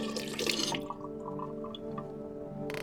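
Water running and dripping in a sink-like setting during a clean-up in the game No I'm Not A Human, starting with a brief hissing splash, then a quiet trickle and sparse drips before another short splash at the end.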